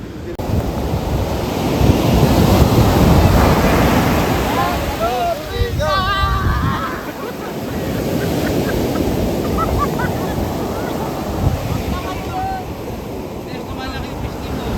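Ocean waves wash steadily onto the shore at Dingalan, a broad continuous surf roar with wind buffeting the microphone, fairly loud throughout with a few faint higher calls over it.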